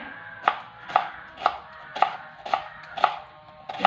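Onion sliced with a knife on a cutting board for homemade noodles, eight steady, evenly spaced chops about half a second apart, crisp and close, with no talk.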